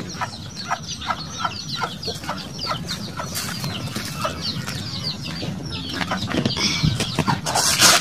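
Native chickens being fed cluck and squawk together in a busy flock, with bursts of wing flapping, loud and close against a constant outdoor rustle.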